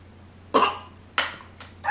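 Three sharp coughs from one person nearby, spaced apart with quiet pauses between them over a faint background hum.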